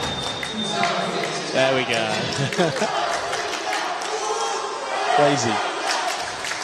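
A crowd at the compound and recurve archery finals of the 2017 European Indoor Championships in Vittel cheers and roars steadily throughout, with a commentator's voice talking over the noise.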